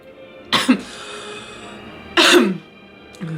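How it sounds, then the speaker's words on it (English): Two separate harsh coughs from one person, each short and close, with a pause of quiet between them. "I cough because the universe knows I'm lying."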